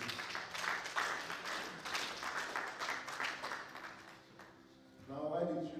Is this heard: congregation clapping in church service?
yes